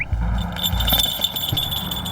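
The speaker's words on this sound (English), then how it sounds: "This emits a little beep every couple of seconds." A falconry radio tracking transmitter fitted on a peregrine falcon gives a thin, high electronic beep close by, over a low outdoor rumble.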